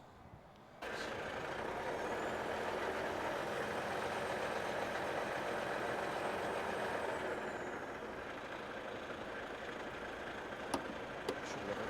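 A truck's air system builds pressure with a steady, loud hiss and engine rumble that starts abruptly and holds, easing slightly later, with a couple of brief clicks near the end and no talking.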